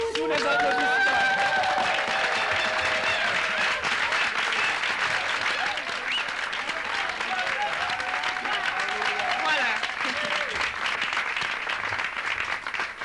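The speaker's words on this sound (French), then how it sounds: "Alors pour la gloire de Dieu, nous allons applaudir." Sustained applause from a church gathering in Kinshasa, a steady wash of many hands clapping, loud and even throughout, with some voices blending into the crowd noise.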